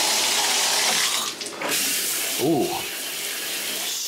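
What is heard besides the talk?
water running from hotel bathroom tap, testing water pressure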